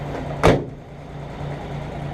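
Door of a 1952 Dodge pilot house truck slamming shut once, a single solid, tight thud near the start, followed by the low steady hum of the idling vehicle.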